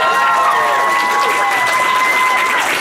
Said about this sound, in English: Round of applause for Sabre.